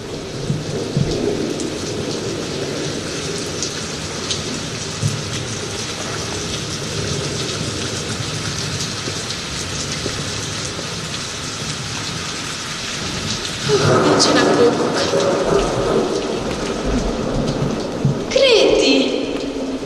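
A thunderstorm in a children's stage production: steady heavy rain throughout, with a louder roll of thunder swelling partway through and voices heard now and then.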